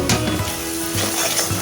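Cumin powder, garlic and ginger frying in a pan, giving a steady, fairly loud sizzle with occasional stirring scrapes and soft utensil knocks throughout.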